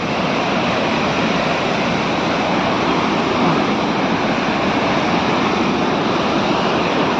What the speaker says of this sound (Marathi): याला गुंड धबधबा म्हणतात आता आपण तिथं जवळ जाऊन बघूया